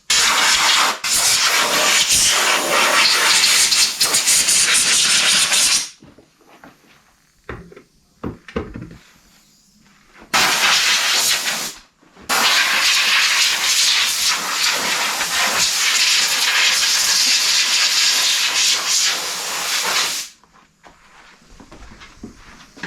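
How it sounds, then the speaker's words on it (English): Compressed air gun blasting dust from the clutch kit and gasket of a 2025 Can-Am 700 XMR during a belt check: two long, loud hissing bursts, each several seconds long, separated by quiet pauses with faint handling noises. "We're just going to take the air gun here and blow out all the edges."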